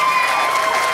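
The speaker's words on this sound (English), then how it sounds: "give Tracy a big round of applause." Wedding guests cheering and applauding during the toasts, a brief loud wash of crowd noise and clapping with sustained tonal voices over it.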